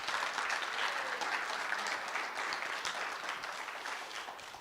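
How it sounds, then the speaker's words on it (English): Sustained applause for a Guide Dogs for the Blind class graduation, a steady, moderately quiet wash of many hands clapping at once, fading slightly toward the end with no talking over it. "let's give one last round of applause for the whole graduates"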